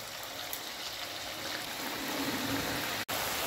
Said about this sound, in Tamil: நல்ல காஞ்ச எண்ணெயில் ரிப்பன் பக்கோடாவை புழிஞ்சிக்கலாம்